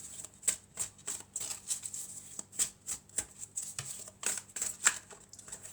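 Oracle cards are shuffled by hand in a quiet room, a run of rhythmic soft riffling slaps and flutters repeating about twice a second, close and alone without talk.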